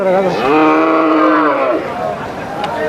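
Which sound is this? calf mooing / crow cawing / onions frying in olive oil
calf mooing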